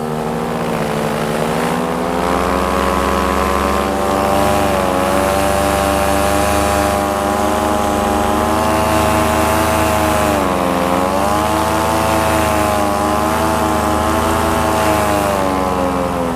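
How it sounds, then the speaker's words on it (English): An Air Conception 280 paramotor with a 130 centimeter two-blade propeller roars continuously and close, its engine pitch rising and falling with throttle changes throughout. "So there's no lacking of power by switching to the 2-blade propeller, the 130 centimeter propeller."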